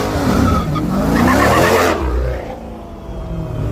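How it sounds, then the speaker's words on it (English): Street tires squealing on a turbo Mustang at a drag race, a loud, close screech that rises and bends for about two seconds before fading into engine noise. "his street tires sound like they biting"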